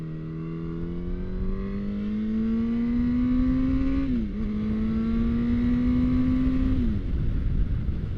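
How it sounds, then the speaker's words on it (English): A Yamaha FZ8 motorcycle being ridden on the road. Its engine drones steadily and loudly, rising slowly in pitch, with a brief dip as if shifting gear partway through and a second easing near the end. "I'm riding the beautiful FZ8"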